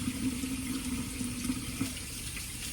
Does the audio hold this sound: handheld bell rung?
no